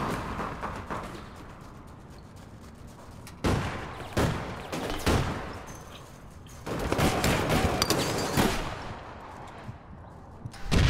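Gunfire in the online shooter APB Reloaded comes as bursts of rapid automatic shots, some close and loud and others more distant, with quieter gaps between the volleys.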